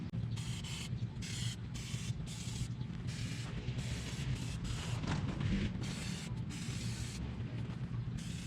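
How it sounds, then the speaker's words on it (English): Penetrating fluid sprayed from an aerosol can onto old car parts of a Honda CRX, repeated hissing bursts of varied length with brief gaps, close and fairly quiet, no talking. "just gonna go ahead and start spraying everything with penetrating fluid"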